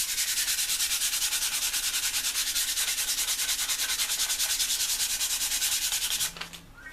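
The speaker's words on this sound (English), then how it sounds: "Any glue that's on there, you'll see it come up with the sandpaper." Sandpaper rubs glue off a wooden table tennis blade in steady, fast back-and-forth strokes, close and continuous, stopping abruptly near the end with a brief clatter.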